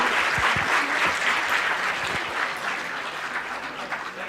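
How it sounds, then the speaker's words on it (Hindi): Audience at a government ceremony in Ranchi, where appointment letters are presented, claps loudly and continuously, a thick sustained burst of many hands with a few murmured voices underneath. "तालियां हो जोरदार"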